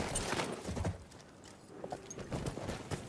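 Horse hooves clip-clop in Battlefield 1, a few soft irregular steps at moderate distance over low ambient game noise.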